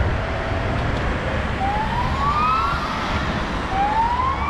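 Police sirens from two police cars and an unmarked car wail in the distance with rising tones over steady traffic noise, fairly faint, at Piața Unirii in Bucharest.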